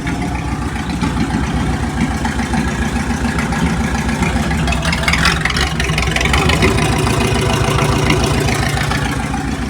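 A Chevrolet Monza with a 350 V8 runs steadily in gear during exhaust testing, a continuous moderate engine drone with no talk over it.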